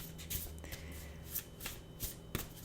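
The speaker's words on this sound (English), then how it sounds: "I'm currently shuffling the Muse Tarot." Muse Tarot cards being shuffled by hand, a steady papery riffling with several sharper slaps as the deck is cut and squared, close and fairly quiet with no talking.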